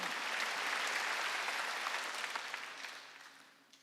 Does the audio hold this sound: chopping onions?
no